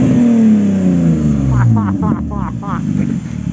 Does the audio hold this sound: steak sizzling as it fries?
no